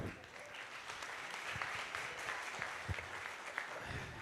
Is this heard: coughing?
no